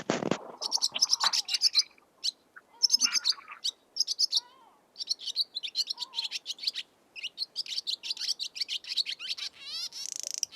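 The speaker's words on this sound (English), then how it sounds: "their song, it's very twittery and mechanical" Rapid twittering bird song with chirps, trills and dry mechanical clicks, close and clear in a quiet setting, repeating in bursts.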